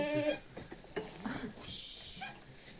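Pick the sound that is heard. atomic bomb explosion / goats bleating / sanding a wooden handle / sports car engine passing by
goats bleating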